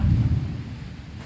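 A low thunder rumble rolls in from the distance in rural Thailand, loudest at first and then fading away.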